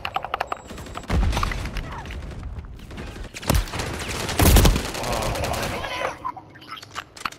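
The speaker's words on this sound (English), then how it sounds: "There's a guy shooting." Rapid video game gunfire from a PC first-person shooter on a high-rise map, with repeated bursts and a few heavy close shots over steady battle noise, while players talk at times.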